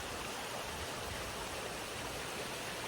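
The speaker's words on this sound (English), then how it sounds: "Do you hear the water?" Water pours continuously over Kitekite Falls in the Waitakere Ranges of New Zealand, a steady broad rushing roar heard from nearby with no pauses and no voices.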